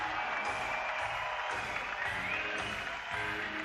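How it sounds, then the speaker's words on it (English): Spectators at the IFSC Climbing World Cup lead finals in Kranj cheering and clapping loudly for a women's competitor, a dense sustained roar with whistles that holds steady across the whole moment. "the loudest cheer of the day so far in the women's competition"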